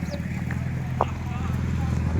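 Hooves of horses arriving slowly at a farm clop in an irregular walking rhythm under a steady engine-like drone, with faint scattered noises and no clear talk.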